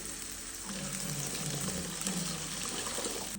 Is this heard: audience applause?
no